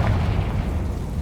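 A Confringo fire spell explodes in the video game Hogwarts Legacy, a loud, rumbling blast that fills the short moment with no voice over it.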